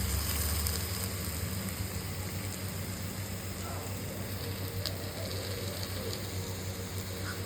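Onions and tomatoes sauté in a pan, giving a steady, soft sizzle and hiss close by that holds evenly throughout, with no talking.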